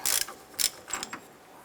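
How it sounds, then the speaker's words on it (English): A ratchet with a 15/16 socket loosens an AC pressure switch on a 2007-2012 Nissan Versa condenser. It gives three or four quick, sharp clicking bursts close up, with no talking. "We're going to swap over our pressure switch here using a 15/16 socket and our ratchet."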